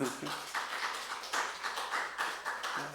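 A church congregation at a Wednesday evening service claps for four children in attendance, a dense patter of hands rising in bursts, with a voice speaking at the start and end.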